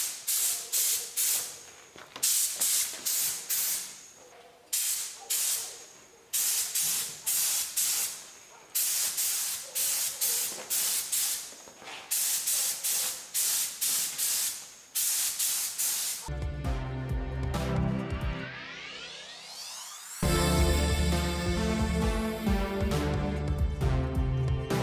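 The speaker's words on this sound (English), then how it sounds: "So I think that I'm gonna try to apply two coats of clear coat" Bursts of spray from a can of clear coat being applied to Mercedes E-Class W211 headlights come in repeated short blasts, loud and close. Music with a steady beat takes over in the later part.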